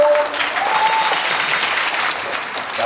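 Audience claps to welcome a Hakka drum troupe at a Hakka music event, dense steady applause from a close crowd lasting the whole stretch with a faint voice briefly over it.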